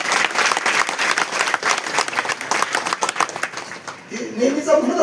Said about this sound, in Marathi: टाळ्या यासाठी वाजवा